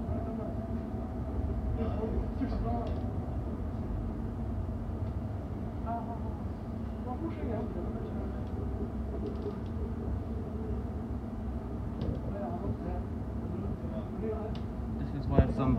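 A London Overground train runs between Stonebridge Park and Watford Junction on the line out of Euston, a steady low rumble with rhythmic rail clatter throughout and a slight jolt near the end.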